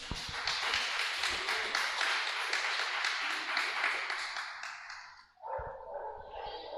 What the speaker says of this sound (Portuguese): Que as palmas louvam ao Senhor.